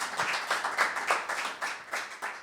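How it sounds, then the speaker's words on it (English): An audience at a live in-the-round music show claps for the performers, a brisk, even run of hand claps, close and moderately loud, with no speech over it. "I want to hear y'all give them a nice round of applause."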